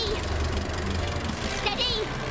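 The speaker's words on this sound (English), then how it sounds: "Gentlemen, start your engines." Cartoon race engines rumble to life at a starting line, a steady low idling drone with faint knocking over the short stretch, plus brief high squeaks and chirps near the end.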